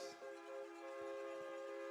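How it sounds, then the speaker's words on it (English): A train horn blows near a high school football field during a game, its steady held tones sounding loud and sustained for the full span with no talk over it. "That's the first time I've heard the train horn get going here this afternoon."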